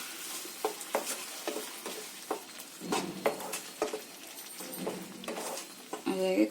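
Pumpkin carrot halwa with half a cup of sugar roasting in a pan, sizzling softly while a spatula stirs and scrapes the pan in steady repeated strokes up close.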